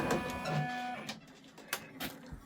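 An embroidery machine stitches a Christmas scene with a little reindeer in red thread at about 900 stitches per minute, a steady mechanical whir through the first second before quieter knocks and ticks.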